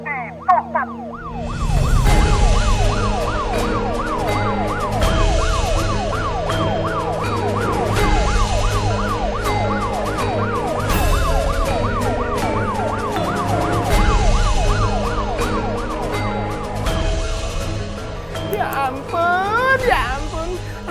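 A loud wailing siren cycles rapidly and steadily for a long stretch, with a vehicle rumble underneath, ending in a few rising whoops.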